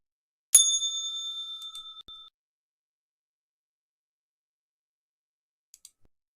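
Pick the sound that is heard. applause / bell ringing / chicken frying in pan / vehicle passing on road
bell ringing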